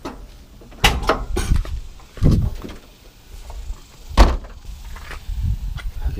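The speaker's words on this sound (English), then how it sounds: "but the door opens pretty good." An old, partly damaged car door with body filler is opened and handled, giving several close clunks and rattling thumps spaced across the few seconds, with no talk.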